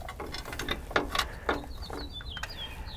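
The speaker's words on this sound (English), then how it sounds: "I'm going to go ahead and bolt this in place" A hand ratchet clicks in short, uneven runs while fender bolts are tightened on a 2015 Jeep Wrangler JK during a Metalcloak overline fender install, close and moderately loud with faint squeaky mechanical chirps.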